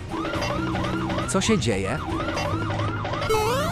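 A video game police siren wails in a steady rising-and-falling cycle, loud and close, while voices talk over it and other game effects chime in briefly.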